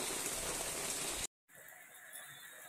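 Rain pours down outdoors as a loud, steady hiss that drops out briefly and then returns somewhat softer.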